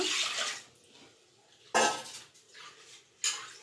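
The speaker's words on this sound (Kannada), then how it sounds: "ಕುಕ್ಕರಿಗೆ ಮಾತ್ರ ಸ್ವಲ್ಪ ನೀರು ಹಾಕಿ ಮಿಕ್ಸ್ ಮಾಡಿ" Water splashes and pours in a few short bursts into a metal pressure cooker of spinach curry, with quiet pauses between and a faint clink of utensils.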